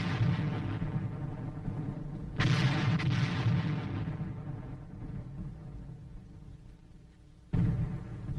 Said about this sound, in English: Under cover of the barrage